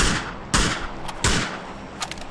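Gunshots in the battle royale game PUBG, three sharp loud reports spaced about three quarters of a second apart, each with a short ringing tail, close and unaccompanied by talk.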